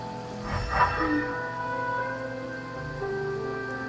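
Rain falls in Genshin Impact as a soft, continuous patter under sustained tonal game music, with a brief brighter swell early on; no voices.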